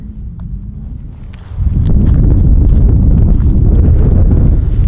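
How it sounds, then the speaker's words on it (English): Strong wind gusting across a mountain valley field, starting as a steady rumble then surging into a loud, continuous roar buffeting the microphone, with faint footsteps underneath. "Whew, there comes the wind."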